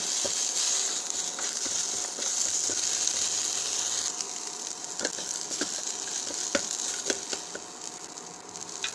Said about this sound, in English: going to add Vishnu Kranti leaves and the stem. Roast this one nicely.